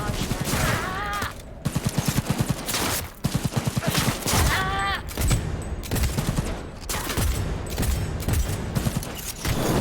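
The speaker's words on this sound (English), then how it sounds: "Getting shot a lot." Bursts of rapid automatic gunfire from the video game Cyberpunk 2077 come in two volleys, mixed with game effects and a voice talking over the action.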